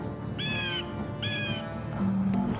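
Bird in the Ultima 5 video game cawing in two short, clear calls, moderately loud over a soft background hum.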